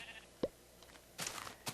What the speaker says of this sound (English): Oh, a brown sheep!